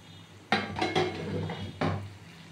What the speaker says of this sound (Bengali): আমি এই প্লেটে আপনাদের ঢেলে দেখাচ্ছি।